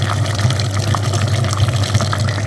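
A pump flushing the cooling system of a Geely car, a steady loud whirring hum with rushing, gurgling liquid running continuously up close, no talking.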